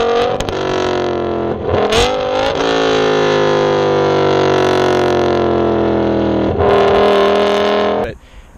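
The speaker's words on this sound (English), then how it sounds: "this comes with the 10-cylinder engine, which, I mean, by God, it sounds unbelievable" The V10 engine of a 2006 BMW M5 revs hard and close, climbing in pitch with loud harmonic roar, dropping briefly between blips, then cutting off at the end.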